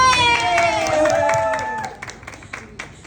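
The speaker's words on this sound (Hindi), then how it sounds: "पहले हम ताली बजा देते हैं तुम्हारे लिए।" Applause and cheering from a party crowd at a birthday gathering welcoming arriving guests, loud and close at first and then thinning into scattered claps.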